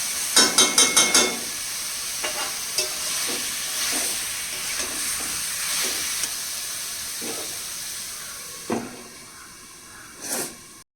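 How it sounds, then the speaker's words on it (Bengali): A spatula stirs meat curry in a pan, a quick burst of clinking scrapes at first, then intermittent stirring strokes over a steady close sizzle and hiss. "খুন্তি দিয়ে মাংসটাকে নাড়তে যাচ্ছি"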